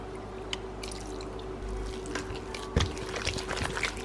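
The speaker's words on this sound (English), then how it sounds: "I'm gonna add in some plant milk." Plant milk pours into a vegan Christmas cake mixture in a bowl, a close trickling, dribbling stream with a few splashes and drips, steady for several seconds with no talk.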